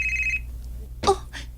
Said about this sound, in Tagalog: Hindi bang di akong cellphone? May nanawag.